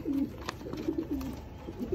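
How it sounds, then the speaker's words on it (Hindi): Soft, repeated cooing of Sialkoti pigeons, a low rolling call in several phrases over a constant background murmur. "कबूतर आपके सामने है उस्ताद अख्तर साहब के सियालकोटी 35 वाले कबूत"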